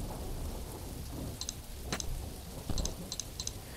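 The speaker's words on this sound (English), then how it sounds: "But this is rain." Soft, steady rain with low rumbling thunder from the video game There Is No Game, accompanied by a few light ticking clicks and no voices.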